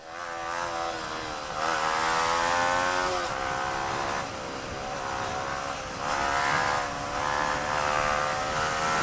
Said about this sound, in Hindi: क्या भाग रही है बाइक